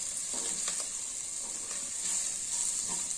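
Curry leaves hit hot oil with a loud, steady sizzle and hiss, close by, with faint stirring and crackling pops running underneath.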